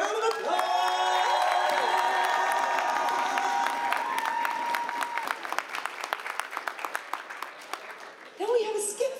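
An audience at an anime fest costume contest bursts into loud sustained clapping and cheering with whoops, which thins into scattered claps as an announcer speaks over the crowd.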